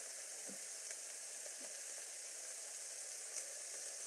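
Oxtails sizzle steadily in a hot pot on fairly high heat, a constant bright hiss with faint pops and a soft stirring knock, close up with no voices.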